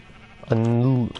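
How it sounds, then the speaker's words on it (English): A single sheep bleats in the Minecraft video game on a sheep farm, one close, clear, wavering bleat lasting about half a second. "This is my sheep farm with one of every color sheep."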